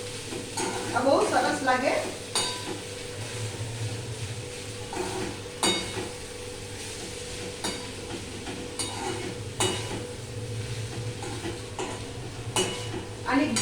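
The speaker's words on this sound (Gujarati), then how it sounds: "આને બરાબર મિક્સ કરી દેવાનું." Masala rice with ghee being stirred in a pan, with soft scraping and a low sizzle running throughout and occasional utensil clinks, while a person talks over it.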